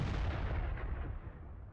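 Artillery gun shot in the tank game World of Tanks: a heavy, close boom right at the start that rolls off into a long decaying rumble, loud and alone with no voices.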